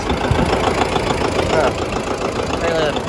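A John Deere 720 diesel tractor engine running, a loud, close, steady knocking chug that continues throughout, with a voice talking over it.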